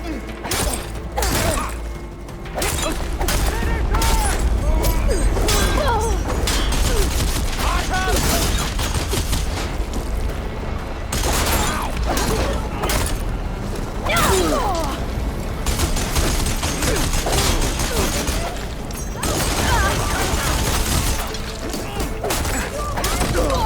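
Enemy gunfire in Horizon Forbidden West, rapid volleys of shots and impacts cracking repeatedly through a loud, busy combat scene with crashes and smashes layered over continuous game noise.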